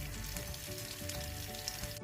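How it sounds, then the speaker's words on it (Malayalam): Butter sizzles and crackles steadily as it melts in a hot pan, a dense, continuous frying hiss close by with no voices. "പാൻ നന്നായി ചൂടാകുമ്പോൾ ഇതിലോട്ട് ബട്ടർ ചേർത്ത് കൊടുക്കാം. ബട്ടറൊക്കെ നന്നായി മെൽറ്റായി വരട്ടെ."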